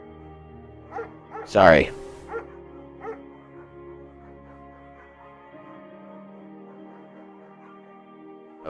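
Dog barking and whimpering in the video game Firewatch: a few short yips and one louder burst of barking near the start, then quieter faint whines, with game music and a brief spoken word underneath.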